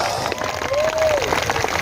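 Audience applause at a stage religious gathering with a kiai, dense clapping and crowd noise filling the moment, with a brief tonal sweep passing over it.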